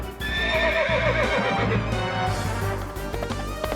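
A horse in a video game whinnies loudly and at length, with clip-clop hoofbeats mixed in. The game is an action game with a samurai gunman.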